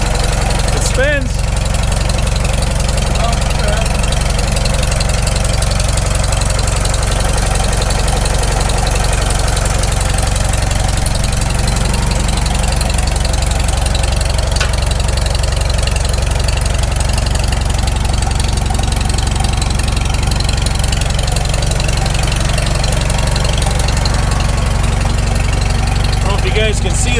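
A freshly rebuilt Farmall Super M tractor engine runs steadily at idle in a low, continuous chugging rumble. It stays loud and close with no break for the whole stretch.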